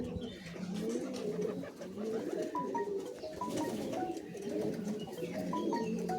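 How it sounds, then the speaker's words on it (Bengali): Several Giribaz pigeons coo in low, repeated rolling calls close by on a rooftop, with faint chirps from other birds in the background. "এই অরূপদার একটা পায়রা দেখছেন"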